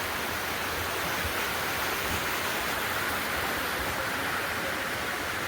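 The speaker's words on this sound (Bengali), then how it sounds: "একটা ঝর্ণা কি সুন্দর পড়ছে" A waterfall at a temple site near Panchalingeswar, heard as a steady, dense rush of falling water, broadband and unbroken, with no voices.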